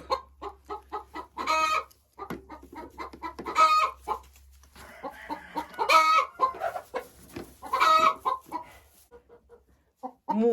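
Hens in a backyard coop cluck in short repeated bursts, with occasional louder squawks and a rooster-like call, close by and fairly loud over a low steady hum, with no talking.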